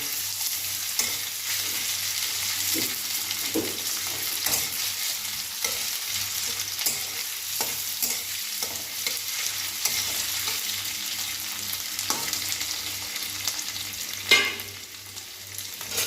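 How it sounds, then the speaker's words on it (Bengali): Small diced potatoes fry in hot oil with a soft, steady sizzle, punctuated by light scraping and occasional taps as they are stirred, ending with a sharper clank. "এই আলু কেটে রেখেছি ছোট ছোট করে, আলুগুলোকে একটু ভেজে নেবো আগে"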